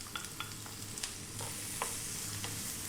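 Onion hits hot oil with cardamom and cumin seeds over high heat, producing a continuous low sizzle broken by several sharp spatula clicks and scrapes as it is kept moving.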